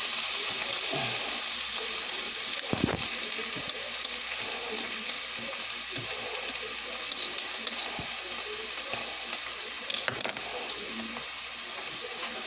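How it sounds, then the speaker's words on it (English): Vegetables for homemade chili cook in a hot skillet with a steady hiss and sizzle, broken by a few stirring scrapes and clatters, close and continuous without talk. "I want the vegetables to start cooking down some before I add my meat in there."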